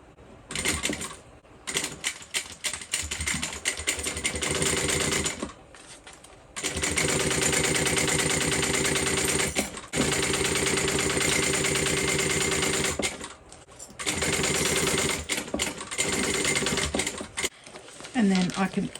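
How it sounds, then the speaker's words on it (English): A sewing machine stitches a seam on a handmade Alicia bag in several long runs with brief pauses between them, a steady fast mechanical chatter that is loud and close, with no talking over it. "I'm just going to come in and sew this together with the seam allowance given in the pattern"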